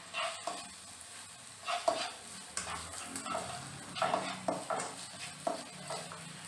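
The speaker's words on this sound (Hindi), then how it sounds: "अभी इसमें एक फाइनली चॉप किया हुआ ऑनियन ऐड कर लेना है और मिक्स कर लेना है।" Finely chopped onion sizzling in about three spoons of hot oil in a kadhai, a soft continuous fry broken by scraping stirs and light clinks of the spoon.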